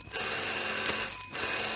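An old-fashioned telephone bell rings in a 1950s World War II drama, a bright continuous trill with a short break before ringing on, clear and fairly loud.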